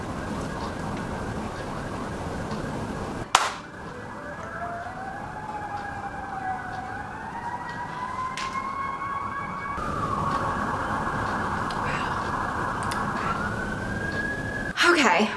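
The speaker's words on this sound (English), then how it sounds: "The sirens are already going off." Emergency sirens wail and rise in pitch over steady road traffic in Florida, continuous and moderately distant, with a few abrupt cuts between passages.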